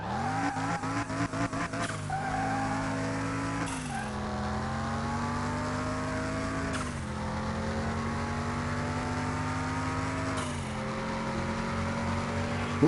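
A front-wheel-drive Griffin Tyro runs on a test track in Car Mechanic Simulator 2021, its engine droning steadily with rising pitch through several gear shifts, each shift marked by a brief dip before the revs climb again.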